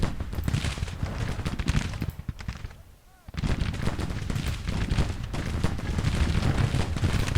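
Dense, loud American Civil War battle fire in the strategy game Grand Tactician: continuous crackling musket volleys and booming artillery, briefly dropping away to a quieter lull before the barrage resumes at full intensity.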